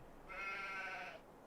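A single sheep bleat, drawn out and fairly soft, rises over quiet background in the farming game Farming Simulator 22.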